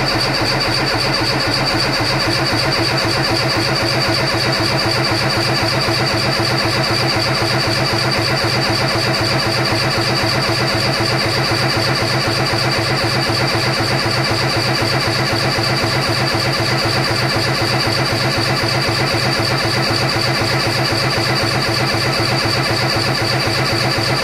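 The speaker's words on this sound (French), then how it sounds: "je trouve qu'il fait un joli bruit de moteur qui démarre pas" A Peugeot 205 engine running steadily and loud throughout, a continuous mid-pitched drone with a rapid low pulsing, close to the car with no talk over it.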